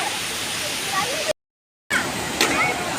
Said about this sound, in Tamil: செம்ம தண்ணி வருது.